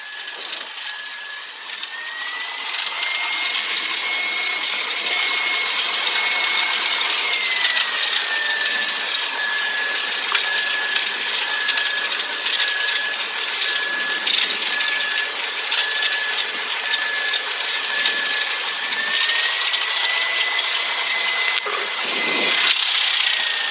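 Light aircraft engine idling as it taxis after landing: a steady, even drone with a whining tone that slowly rises and falls in pitch, continuous and fairly loud from inside the cabin.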